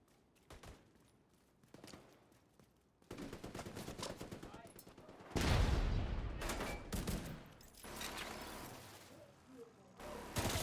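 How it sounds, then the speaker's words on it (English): Minigun fire in the video game Division 2, heard as dense bursts of rapid gunfire that start and stop, growing louder and heavier midway with a thick low rumble, mixed with other game combat sounds. "That is a minigun"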